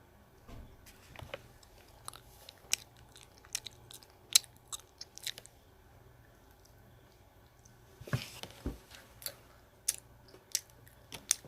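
Close, crisp chewing and biting during a mukbang eating show, heard as irregular clusters of wet crunches and clicks with quiet pauses between bites, and no talk.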